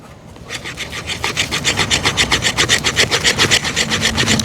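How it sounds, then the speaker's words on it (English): A SOG Seal Pup knife blade scrapes along wood in quick, even repeated strokes, close and steady, with each pass making a dry rasping sound and no talking. "We'll see how well this thing scrapes."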